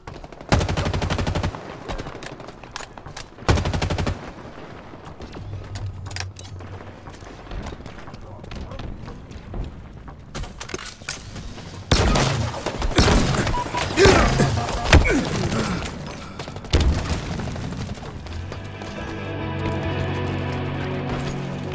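Gunfire in a Halo Infinite multiplayer match: loud bursts of automatic weapon fire and heavy shots mixed with impacts and explosions, while a game announcer voice speaks over parts of the fight.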